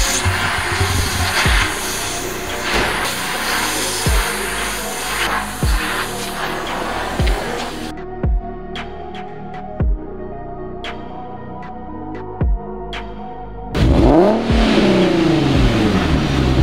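A Maserati engine revs repeatedly in short sharp bursts through a newly fitted exhaust, a deep, throaty note, loud and close, ending in a longer roaring rev.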